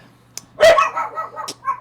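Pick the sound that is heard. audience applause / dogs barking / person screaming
dogs barking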